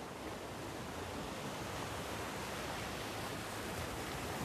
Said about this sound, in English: Soft waves move in and out beneath the fading light.